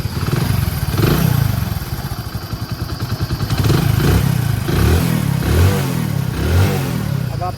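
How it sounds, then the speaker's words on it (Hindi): A Hero motorcycle engine runs close by with an even, steady throb, its rhythm rising slightly as the throttle is blipped, with no talking. "बिल्कुल मक्खन की तरीके गाड़ी का साउंड है भाई।"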